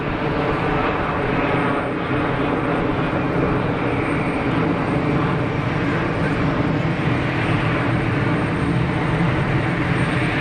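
An EasyJet airliner departs Geneva Airport with a steady, loud broadband engine roar that holds throughout, dense and continuous without letting up.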